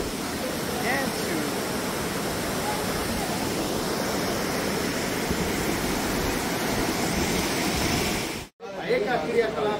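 A river rushing in the valley below a mountain trail on the way to Dupcheshwar Temple in Nepal, a steady broadband roar of water that holds constant, broken by a brief dropout near the end.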